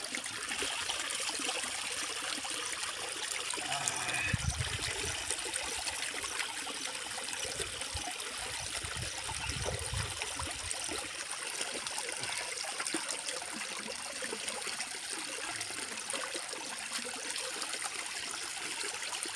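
Spring water trickling steadily while someone washes their face, a continuous close splashing wash with a few louder splashes early on and no talk.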